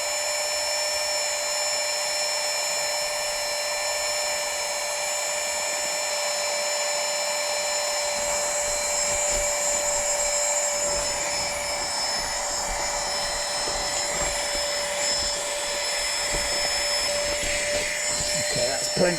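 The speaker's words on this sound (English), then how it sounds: "That should blow up the mattress. Yeah, steadily inflating." Electric pump steadily inflating an air mattress at a winter wild camp, a continuous high whining hum with steady tones running unbroken throughout, loud and close.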